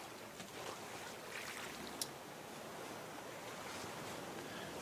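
Ocean waves in the survival game Raft roll as a steady broadband wash of surf with wind, moderately loud and continuous, with one brief sharp click partway through and no talk.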